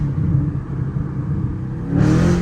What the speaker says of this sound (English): Like, we breaking traction right there.